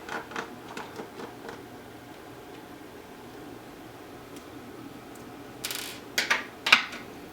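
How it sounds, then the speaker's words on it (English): A screwdriver backs screws out of an iMac hard drive caddy, producing faint, sparse metallic clicks and ticks and then a few sharper clinks near the end, close up in a quiet room. "Now, once these two screws are removed,"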